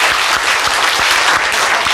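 Audience applause in a lecture hall, dense steady clapping from many people, loud and continuous throughout.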